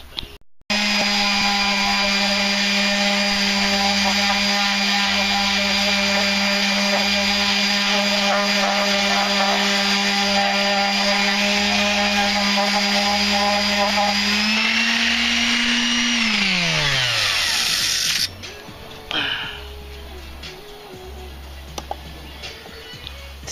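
Power tool with 60-grit sandpaper sanding down a brake: a loud, steady, high-pitched whir runs for about fourteen seconds, then winds down and stops, leaving faint handling noises.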